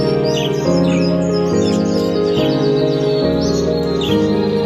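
Pet budgies chirp and tweet in rapid, overlapping calls, close and fairly loud, over a steady tonal background that sounds like music.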